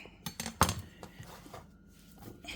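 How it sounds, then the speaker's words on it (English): A knife cuts through a firm green plantain on a board, giving a sharp crisp click followed by softer scraping and tapping. The sounds are close and fairly quiet. "slicing this plantain, green plantain"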